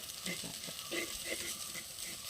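Sizzling in a frying pan as curry ingredients with turmeric are stirred and mixed, with soft scraping strokes of the spoon and a speaking voice faintly underneath.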